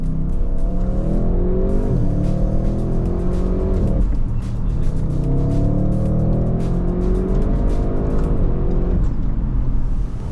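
An Audi RS6 drives hard, its engine revving up repeatedly through rising gear pulls with sharp shifts, loud and close throughout the whole stretch.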